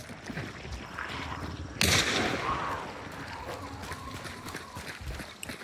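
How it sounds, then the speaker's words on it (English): A single sharp gunshot cracks out amid a busy, noisy Hunt: Showdown game soundscape, followed by a rumbling tail and scattered faint pops. "Got gunshots coming from the northwest."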